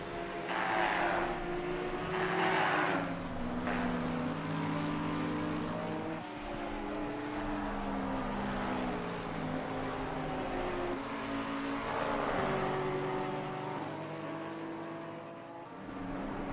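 Race cars in a multi-class club race at Watkins Glen, an Audi, a Lexus and a Porsche, roaring past with rising and falling engine notes and gear changes, several cars passing in succession at moderate distance.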